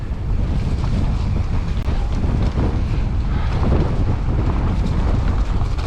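Strong wind roars loudly and continuously across the microphone during a mountain bike ride in the Peak District, a dense buffeting rush that covers everything else.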